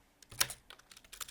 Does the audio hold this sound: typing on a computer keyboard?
yes